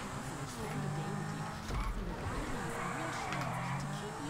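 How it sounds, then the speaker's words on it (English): A car drifting in GTA Online, a steady engine drone with wavering, rising and falling tire squeals through most of the stretch, close and continuous, under faint background game noise. "Drifting."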